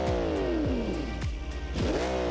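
A track car's engine revs in a loud, close burst, pitch sweeping up and falling back twice, with a steady idle rumble between the two climbs.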